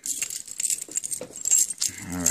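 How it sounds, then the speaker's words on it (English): Keys jangle and clink from a pocket of heavy cargo work pants, a close, bright metallic rattle in irregular bursts, louder toward the end. "More keys."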